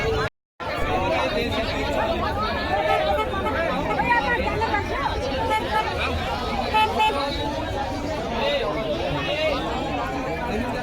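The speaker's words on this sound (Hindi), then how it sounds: "भयानक टाइप की भीड़ है यहाँ पे।" A huge dense crowd jams the road at the Jhirna fair in Kawardha, Chhattisgarh, a steady loud babble of many voices with vehicle horns tooting through it, continuous and close.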